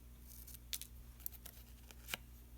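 Scissors snipping slits into a handmade paper stencil: a few faint, sharp, close cuts spaced irregularly over a low steady hum.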